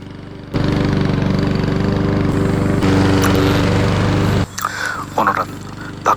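A lawn mower engine drones steadily and loudly for several seconds, then cuts off abruptly, leaving a few softer clunks and rustles.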